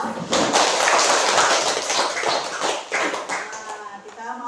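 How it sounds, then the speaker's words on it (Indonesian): A classroom of children breaks into applause, a dense burst of many hands clapping that stays loud for a few seconds before thinning out, with voices mixed in. "Kita beri aplaus."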